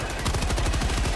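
A grenade launcher fires in Helldivers 2, its rapid, steady run of thumping shots loud and close for the whole brief moment, with no voices over it.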